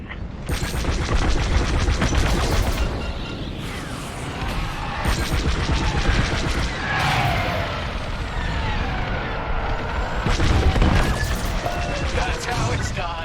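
Star Wars: Squadrons starfighter battle near a corvette, with rapid laser cannon bursts and crashing impacts over a steady roar of engines, loud and dense throughout, while voices talk over it.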